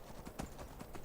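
A horse's hooves clip-clop in Skyrim as a rider travels toward Riften, a steady, fairly quiet run of evenly spaced hoofbeats over a low background.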